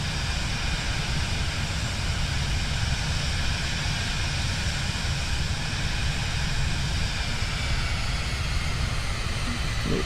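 Aircraft engine in Flight Simulator 2024 giving a continuous, loud, even roar with a deep rumbling base and a broad hiss, steady throughout with no voices.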